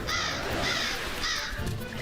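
A crow caws three times in a row, harsh and fairly loud, over a steady noisy background with no talking.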